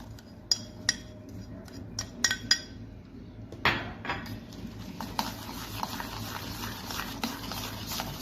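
A spoon stirs jaggery in a metal pot until it dissolves, for mango panha, giving a run of sharp clinks and scrapes against the pot, loudest in the first few seconds, then a steadier soft stirring over a low background hum.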